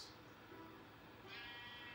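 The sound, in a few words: sheep bleating in Minecraft video game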